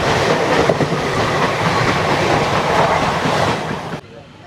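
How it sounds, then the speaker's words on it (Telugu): A Guwahati–Yesvantpur special train rushes past, its loud broadband roar and rattling wheels filling the air up close before cutting off sharply near the end. "గౌహతి నుండి యశ్వంతపూర్ వెళ్ళే స్పెషల్ ట్రైన్ ఇది"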